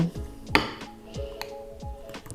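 Yeast, sugar, warm milk and flour for Easter paska are stirred in a bowl, with soft scraping and a few light clinks of a utensil against the side, close and unhurried.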